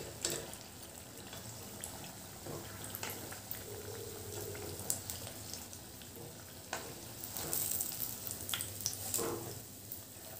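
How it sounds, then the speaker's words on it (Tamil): Snack pieces fry in oil over a medium flame, a faint, steady bubbling sizzle with occasional soft pops and stirring sounds, no voices. "அப்படியே மீடியம் ஃப்ளேம் வச்சு இதை வந்து ஃப்ரை பண்ணி எடுத்துருங்க."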